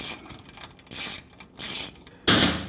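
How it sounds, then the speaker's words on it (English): A 5 mm tool ratcheting to tighten the heat shield on a Predator carbon slip-on exhaust fitted to a Triumph Bonneville T100/T120 motorcycle, with three short rasping ratchet strokes and a louder final one, close up. "Now using our 5 millimeter, we'll tighten up the heat shield tank."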